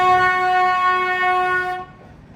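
The famous Ooty train sounds its horn in one long, loud, steady blast with strong harmonics, which stops abruptly near the end.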